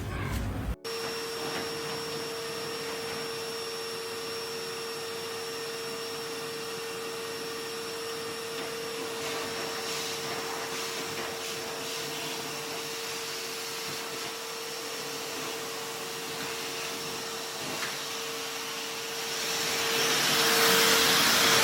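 A dryer vent cleaning blower gives a steady, loud roar of rushing air with a constant high whine, running without pause and swelling slightly louder near the end.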